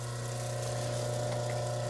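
Water runs steadily over a stalagmite polishing wheel, a continuous close hiss and splash layered over the droning hum of the wheel's motor, unbroken from start to finish.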